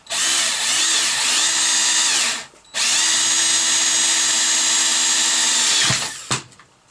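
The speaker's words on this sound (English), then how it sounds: "So I'm just going to drill this." A power drill whirs loudly at high speed in two long bursts, pausing briefly between them, then winding down and stopping.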